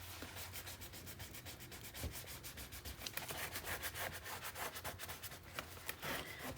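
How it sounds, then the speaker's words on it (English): Tape on a mini album page hinge is burnished by hand, giving repeated rapid scratchy rubbing strokes in a steady back-and-forth rhythm, close and fairly quiet, with no talk. "burnish this."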